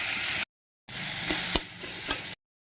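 Boiled jackfruit frying in a pan with onion and a little salt, a steady close sizzle in two bursts separated by a silent gap, with a few scraping stir knocks.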